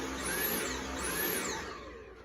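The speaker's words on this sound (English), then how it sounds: "Does your Dyson vacuum sound like this?" A Dyson vacuum cleaner with a clog pulses on and off, its motor whine surging up and dropping twice in quick succession before cutting out, close and fairly loud.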